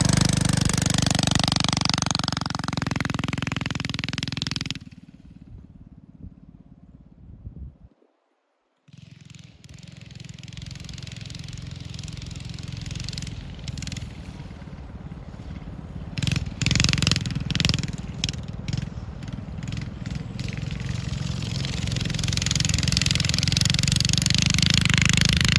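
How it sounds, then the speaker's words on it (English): A Monster Moto mini bike engine runs loud and steady during a ride, dropping out briefly to near silence before revving back up with a sustained buzzing drone and a few sharp bursts. "This is the Monster Moto, the second ride."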